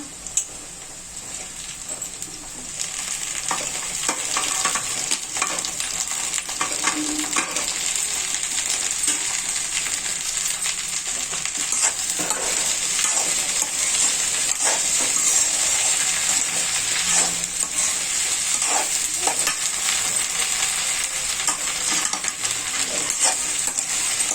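Okra (bhindi) added to a hot pan and stir-fried, a loud, sustained sizzle with scattered clinks and scrapes from stirring, steady for the whole stretch.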